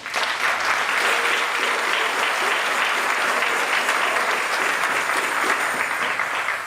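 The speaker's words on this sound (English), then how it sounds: "Give my brother a big, big round of applause" Sustained, loud audience applause fills the room at a 50-year community celebration honoring a Big Chief, a dense, even clatter of many hands clapping without pause.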